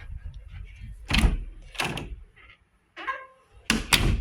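An access control system releases a door lock and the door opens, giving a series of sharp mechanical clunks and knocks, fairly close and loud, with a short hum between them and no talk.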